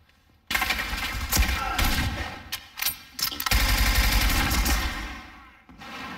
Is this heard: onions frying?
no